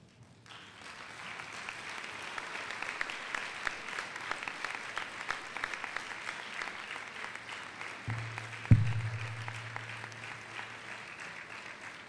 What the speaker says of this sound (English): thank them appropriately with a rousing round of applause